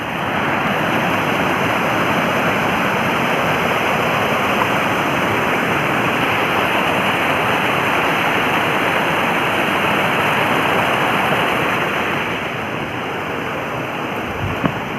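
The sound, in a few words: mountain river flowing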